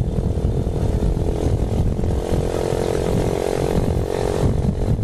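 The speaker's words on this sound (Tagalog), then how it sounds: "Pakabit tayo ng silencer dahil napakaingay nitong tambucho na to." A Honda TMX 125 motorcycle with a loud, unsilenced bullet exhaust pipe idles and runs steadily up close, a continuous low rumbling engine drone throughout with no talking.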